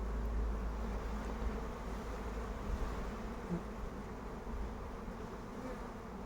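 Dense, continuous buzzing of many honeybees at an open two-story hive close by, a steady droning hum that stays even throughout with no talking.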